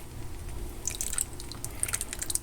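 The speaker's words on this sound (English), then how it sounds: "That's pure wax dripping off the bottom of that." Melted beeswax drips from the bottom of a strainer while honey wax is rendered, giving soft irregular ticks and tiny splashes, quiet and close, over a low steady hum.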